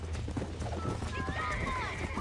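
A horse in Red Dead Redemption whinnies and gallops, with steady clip-clopping hoofbeats and a rising, wavering neigh in the second half, close and fairly loud over background noise.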